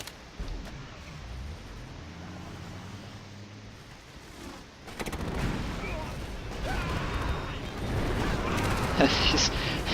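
Heavy tanks firing on half-tracks in the WW2 strategy game Axis & Allies during the Battle of Stalingrad, a dense rolling clatter of gunfire and booms that grows louder and busier in the second half, with some speech mixed in.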